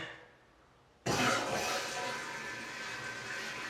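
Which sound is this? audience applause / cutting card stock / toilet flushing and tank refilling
toilet flushing and tank refilling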